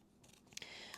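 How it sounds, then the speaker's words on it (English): Scissors snip through plastic packaging holding a 2032 coin-cell key fob battery, a few close, sharp cuts in quick succession with no talking. "now I need scissors to open this up"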